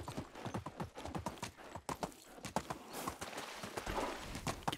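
Hooves of a donkey clip-clop on the shore in the Medieval Dynasty video game. The hoofbeats come in a steady, close walking rhythm throughout, with no talking.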